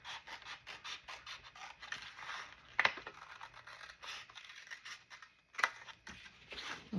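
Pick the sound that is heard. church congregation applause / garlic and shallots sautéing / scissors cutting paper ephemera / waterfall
scissors cutting paper ephemera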